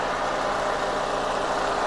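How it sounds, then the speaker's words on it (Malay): A 2009 Perodua Myvi SE four-cylinder engine idles steadily, a smooth, even hum heard up close and alone for a couple of seconds. "enjin 4 silinder. Okey, bunyi dia masih lagi halus"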